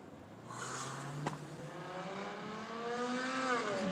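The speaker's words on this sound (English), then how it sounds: "Dumbass in a Dodge Challenger revving his car up." A Dodge Challenger revs its engine on a Los Angeles street, a loud, sustained growl whose pitch climbs steadily toward the end with no talking over it.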